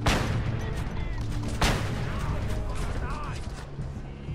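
Sustained video game gunfire forms a dense, loud wall of noise with a sharper burst midway, continuous rumbling underneath throughout.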